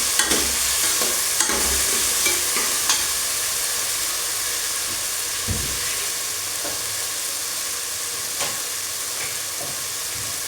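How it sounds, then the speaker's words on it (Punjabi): Finely chopped potatoes fry in a pan for Punjabi kadhi, giving a loud, dense, continuous sizzle with occasional light stirring knocks, close and unbroken throughout. "ਆਲੂ ਆ ਜਿਹੜੇ ਕੱਟ ਲੈਣੇ ਨੇ ਤੇ ਜੀ ਇਹਨਾਂ ਨੂੰ ਵੀ ਆਪਾਂ 1-2 ਮਿੰਟ ਦਾ ਜਿਹੜਾ ਸੇਕ ਲਵਾ ਲੈਣਾ ਆ"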